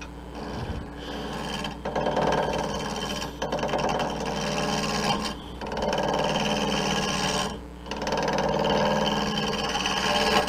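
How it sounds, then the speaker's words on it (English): A lathe turns a wood blank as a turning tool roughs it out: a continuous hum under steady scraping and rasping of the cut, broken by a few brief dips where the tool lifts off. "when you're roughing out a blank like this, you don't want to start in the middle"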